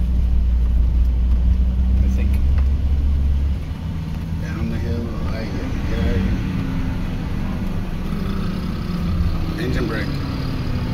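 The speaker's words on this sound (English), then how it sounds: "Engine brake." A delivery truck's engine brake rumbles loud and close from inside the cab, a deep steady drone that shifts pitch partway through, with faint higher-pitched noises above.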